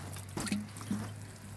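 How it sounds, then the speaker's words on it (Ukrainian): Zucchini plants are watered with diluted yeast solution poured from a small half-litre jar. Soft trickling and dripping of liquid is heard close and quiet, with a couple of brief splashes over a steady low hum. "І баночці пів літра розбавила дрожжі і отак поливаю кабачки."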